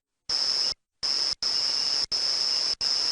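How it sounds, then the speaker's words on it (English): Cicadas calling at Djuma Game Reserve on a late-afternoon safari drive, five shrill, even buzzing bursts separated by short silent gaps. "So the cicadas are calling."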